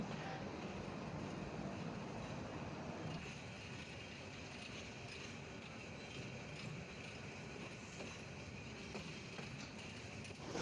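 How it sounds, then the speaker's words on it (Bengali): The Egarosindhur Provati intercity train, number 737, runs at speed, giving a steady loud rumble of wheels and carriages with faint rhythmic rail clatter throughout. "আজকের কাঙ্ক্ষিত ট্রেনটি এগারো সিন্ধুক প্রবাতি আন্তনগর যার ট্রেন নাম্বার সাতশো সাঁত্রিশ ট্রেনটি ছুটে চলেছে তার আপন গতিতে পরবর্তী গন্তব্যে"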